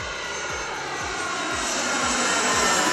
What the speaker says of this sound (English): I'm gonna hear airplane noise that sounds just like this.